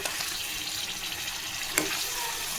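Mutton pieces are rinsed in water in a kitchen, a soft continuous watery splashing and sloshing with one brief louder splash, fairly quiet and without talk.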